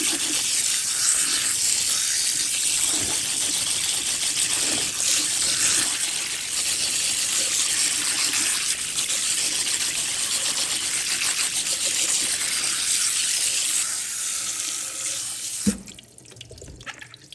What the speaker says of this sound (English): Now I'll run water through the rice until the drain off I see comes out clear as the water going in.